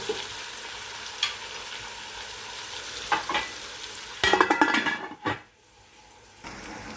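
Onions, garlic and spices fry in a pan with a soft steady sizzle, then a burst of stirring and scraping clatter before the sound drops nearly to silence and the sizzle resumes faintly.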